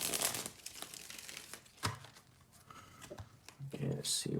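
Papery crinkling and riffling of tarot cards being shuffled, irregular bursts up close, with a voice murmuring briefly underneath.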